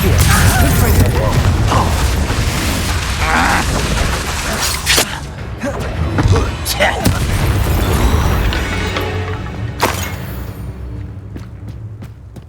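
Confringo blasting spells in Hogwarts Legacy, a string of heavy booms and crackling bursts with mechanical clatter, loud and close, while a voice speaks over the action.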